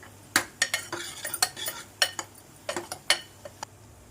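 A spoon stirs onion masala with turmeric and garam masala in a pan for a squid dish, giving sharp, irregular scrapes and clinks against the metal over a faint sizzle, fairly close and alone.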